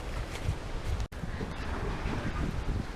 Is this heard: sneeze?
no